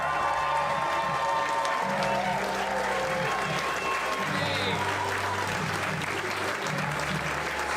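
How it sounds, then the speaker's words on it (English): A live stand-up comedy audience bursts into sustained applause and cheering for comedian Zoltan Kaszas, a dense wash of clapping that runs steadily throughout with a low hum of crowd noise beneath. "Put your hands together for Zoltan Kaszas."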